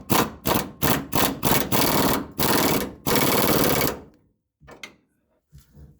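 An air-powered impact wrench set to 66 foot-pounds tightens a bolt on a Skyjacker Black Max shock for a 2009 Ford F150, loud close bursts of rapid hammering in a stuttering series of pulses, then quieter short clicks and taps.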